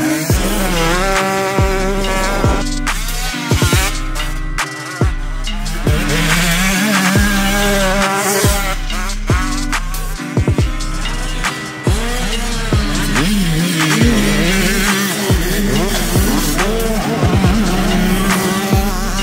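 Several 125cc two-stroke motocross bikes rev hard on a dirt track, engines whining and rising in pitch as they accelerate, a loud, continuous buzzing drone with repeated throttle blips and overlapping machines.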